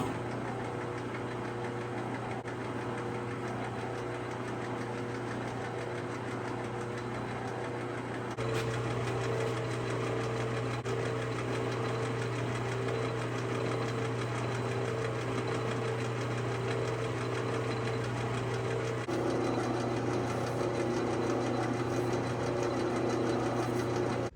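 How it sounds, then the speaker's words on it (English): A metal lathe runs steadily in a workshop with a continuous motor hum and whine, growing slightly louder partway through. "Now I'm going to turn the lathe on."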